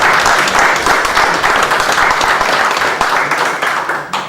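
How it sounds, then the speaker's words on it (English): An audience at a town board meeting claps in a dense, steady round of applause that holds for several seconds before tapering slightly. "I'd like a round of applause."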